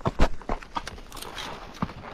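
Hooves of a horse clip-clop on a dirt trail in a loose, uneven rhythm, several close, distinct thuds at the start fading to softer steps, with a faint voice in the background.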